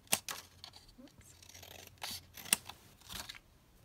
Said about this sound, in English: we'll just cut a little bit off the bottom